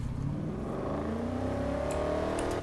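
Car engine in Need for Speed Heat revs steadily upward in pitch, a continuous droning whine held at even loudness with a couple of faint clicks near the end, no talk.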